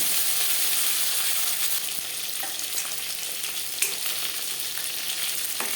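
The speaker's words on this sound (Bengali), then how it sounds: "মাছ ভাজা হয়ে গেছে" Pieces of rohu fish fry steadily in hot oil in a home kitchen wok, giving a continuous close sizzle with soft crackles and one sharp pop near the end; no one speaks.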